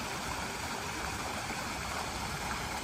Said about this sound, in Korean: 잠시 인공폭포의 물소리를 감상하고 가도록 하겠습니다.